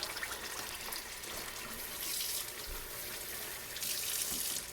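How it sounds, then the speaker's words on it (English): Water runs from a tap to rinse food cans in a kitchen sink, a steady close splashing stream that swells briefly twice. "Don't forget also to rinse the cans and also use the water."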